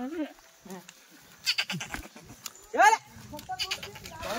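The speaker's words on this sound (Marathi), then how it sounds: "शेळ्या" Goats bleat several times, wavering calls rising and falling at close range, with a loud one near the middle, while people talk intermittently around them.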